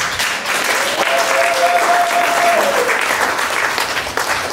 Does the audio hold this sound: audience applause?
yes